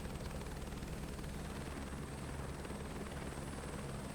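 Constant rotor thump and engine drone of a helicopter flying in Microsoft Flight Simulator 2024, steady and moderately loud throughout with no voices.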